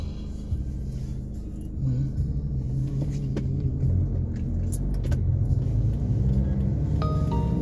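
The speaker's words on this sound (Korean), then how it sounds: "테슬라 모델 X." A Tesla Model X car driving on a road, with a steady low rumble of road and tyre noise throughout, swelling slightly partway, plus brief faint clicks and tones from inside the cabin.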